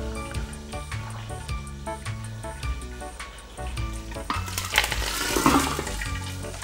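Chopped onion drops into hot oil in a pot, and a bright sizzle swells over the last couple of seconds beneath rhythmic background music.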